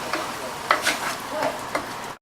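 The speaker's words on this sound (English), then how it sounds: "And your next step is to simply saute the onion until it gets soft, which is about 5 minutes." Minced onion sautés in a pan for sage stuffing, giving a soft continuous sizzle with a few light stirring clicks, close up, before ending abruptly.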